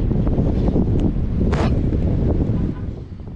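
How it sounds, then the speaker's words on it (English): Strong wind at Pensacola Beach ahead of Hurricane Sally, loud gusts buffeting the microphone in a continuous roar, easing slightly near the end. "in case you can't hear me, it's super windy."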